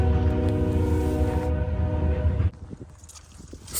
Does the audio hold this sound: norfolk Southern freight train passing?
yes